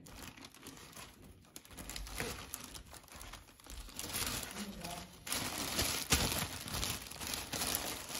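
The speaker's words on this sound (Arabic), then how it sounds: "وبعد ما تقطع كده ممكن تجيبه في كيس بلاستيك" A plastic bag crinkles and rustles up close as sliced homemade bread is bagged, with irregular crackles and crumpling bursts that grow busier through the second half.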